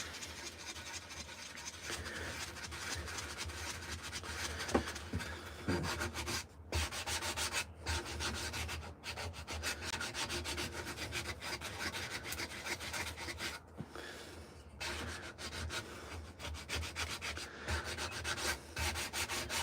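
A sanding block rubs back and forth over a wooden coffee scoop in a workshop, giving steady rhythmic rasping strokes with brief pauses, close and fairly quiet, with no voices.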